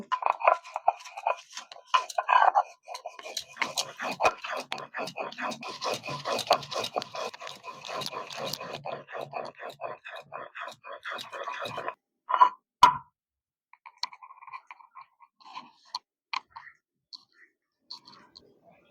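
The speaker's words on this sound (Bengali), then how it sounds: "এবারে আমি শিল্পাটাই নিয়ে নিচ্ছি দুটো কাঁচা লঙ্কা একটু নিয়েছি আদা তিন কোয়া নিয়েছি রসুন এবারে বেটে নেব" Poppy seeds, green chillies, ginger and garlic being ground on a flat grinding stone, a steady rhythmic rasping and rubbing of stone on stone with soft clicks, close and fairly quiet, then a few sharp knocks and lighter scraping.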